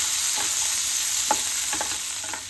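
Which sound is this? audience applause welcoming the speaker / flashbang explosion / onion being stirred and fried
onion being stirred and fried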